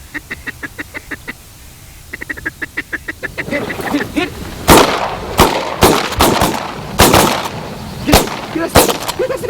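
Duck hunt with a run of rhythmic duck-call quacks, then a volley of loud, close shotgun blasts fired in quick succession amid wingbeats and faint calling.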